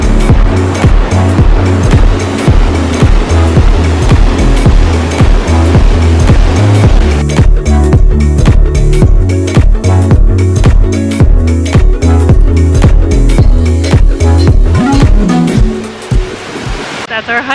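Rushing water from a waterfall in Waterton Lakes National Park, a loud, steady roar close by that fills the whole stretch with dense, unbroken noise before easing slightly at the end.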